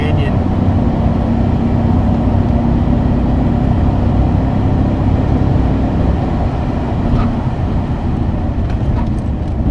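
An Audi A6 C5 with a manual gearbox drives through a canyon road, its engine a steady, loud, droning rumble heard from inside the car, with no talking.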